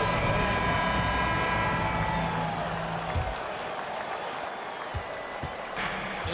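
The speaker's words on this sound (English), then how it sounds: "Please give a big round of applause for your Celtics" Simulated arena crowd in the NBA 2K23 basketball game, a Celtics home crowd facing the Philadelphia 76ers, roars with steady applause and cheering, loud and dense throughout, easing slightly halfway through.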